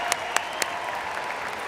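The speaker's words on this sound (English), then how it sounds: "Let's give all of the graduates one more huge round of applause." A large commencement audience applauds graduates of a college of business, a steady dense wash of clapping with a few sharper claps standing out near the start.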